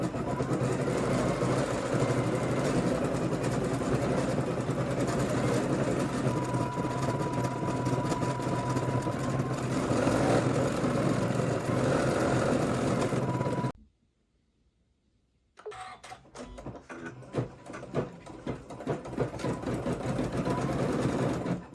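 Computerized embroidery sewing machine stitching an in-the-hoop flower design for a stuffed toy, a steady rapid mechanical whir that runs loudly, stops for a couple of seconds, then resumes with the needle clattering.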